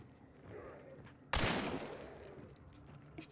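A single loud gunshot blast in the video game Hunt: Showdown, sudden and close with a short echoing tail, set against a quiet ambient bed with faint voices.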